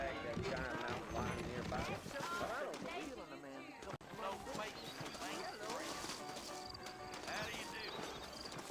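Horse hooves clip-clop in a steady rhythm beneath a dense wash of music and other busy sounds in the video game Red Dead Redemption.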